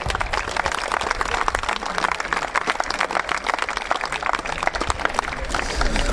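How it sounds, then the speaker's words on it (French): Applause for a football club member at the inauguration of a stadium stand, busy crisp clapping from a gathered crowd that stays loud and even for about six seconds, with faint voices mixed in. "on peut l'applaudir à Jeannot, bravo."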